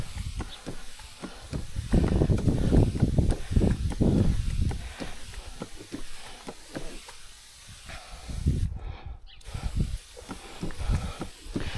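A sprayer misting foliar feed over onion beds gives bursts of loud hissing spray that swell and fade, with pauses and soft rustling footsteps between passes.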